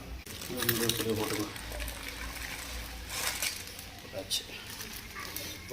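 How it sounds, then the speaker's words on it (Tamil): Noodles go into a pan of egg noodles once the water has dried off, making a few clattering clinks and scrapes against the metal while someone talks nearby. "இப்போது நூடுல்ஸ் போட்டுக்கலாம்."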